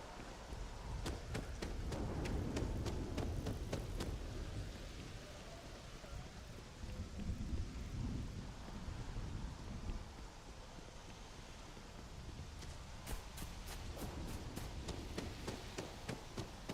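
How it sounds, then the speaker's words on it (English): Steady rain patters across the outdoor scene of the video game Starfield, a continuous wash with bursts of sharp crackling strikes that could be thunder, with no voices over it. "It's raining."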